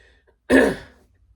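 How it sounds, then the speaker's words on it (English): A single throat clearing from a person with allergies, one close, loud rasping burst lasting about half a second and fading quickly into silence. "if I clear my throat"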